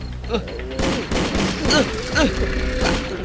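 Rapid bursts of pistol fire in a video game fighting a white crocodile spirit, sharp repeated shots stacking into a loud fusillade over shouted talk and game noise.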